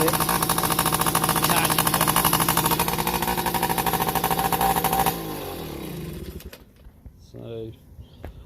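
A serviced Yamaha PW50 two-stroke minibike engine runs loud and steady for about five seconds, then is throttled down and fades to a lower idle before cutting out, with a few faint clatters after.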